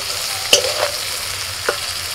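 Vegetables fry lightly with a little salt in a kadai, a steady sizzle broken by a few sharp scrapes and clinks of stirring, close and alone without voices.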